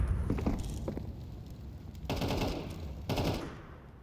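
Counter-Strike 2 gunfire from pistols, an MP9 and an AK crackles in rapid shots, followed by two louder, sharper bursts near the two- and three-second marks, with no talking.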